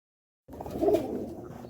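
After a moment of silence, pigeons settled in their loft break into a close, throaty cooing that swells and then trails off softly, with no talking over it.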